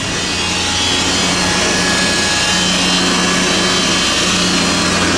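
An electric winch on a trailer runs steadily from an undercharged battery, a loud continuous motor drone with a grinding, rasping texture that holds unbroken throughout, close by and without speech.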